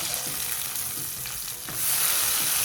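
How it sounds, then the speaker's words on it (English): A meat patty sizzles and fries steadily in a hot pan, a continuous dense crackle with faint stirring or shifting noises, no talking. "while the meat patty's cooking"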